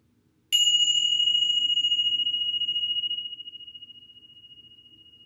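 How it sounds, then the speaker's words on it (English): One clear strike of meditation chimes rings a pure, sustained tone that hangs alone in quiet and slowly fades over several seconds. "I'm going to ring the chimes for us to start."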